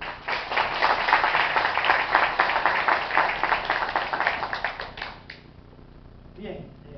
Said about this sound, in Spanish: Así que vamos a dar un aplauso a la licenciada Madera